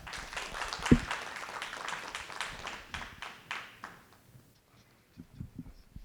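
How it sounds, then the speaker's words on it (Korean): An audience claps in welcome for a politics professor at a Catholic peace forum on the Korean Peninsula. The dense applause fills the room for several seconds, then fades to near silence before a voice begins to speak. "앤드리어 교수님 박수로 맞이하셔야겠습니다."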